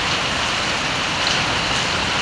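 Heavy rain pouring behind a house, a loud, dense, continuous hiss of downpour with no voices.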